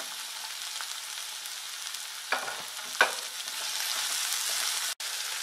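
Chopped onion and bell pepper frying over high heat for Gobi Manchurian, a steady hiss of sizzling with a couple of brief stirring scrapes and a sharp tap near the end.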